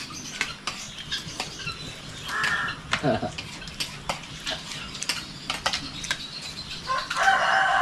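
A rooster crows among chickens in a farmyard, its call rising above scattered clucks and clatter, while people talk nearby.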